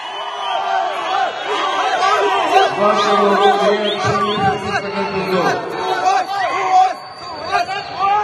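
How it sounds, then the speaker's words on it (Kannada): Hundreds of party workers holding photos chant and cheer at a memorial event while former chief minister Siddaramaiah speaks, a dense, loud crowd roar with overlapping voices throughout. "ನೂರಾರು ಕಾರ್ಯಕರ್ತರು ಸುಹಾಸ್ ಫೋಟೋ ಹಿಡಿದು ಜೈಕಾರ ಹಾಕಿದ್ರು"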